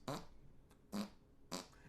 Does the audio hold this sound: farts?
yes